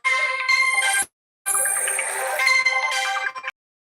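Phone ringtone repeating in two bursts of bright melodic tones with a short silent gap between them, loud and close with no talk.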